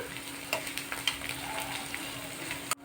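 Ginger garlic paste fries with onions in a pan for a chicken semi-gravy fry, making a soft, even sizzle broken by light clicks and taps from stirring and ending in a sharp knock.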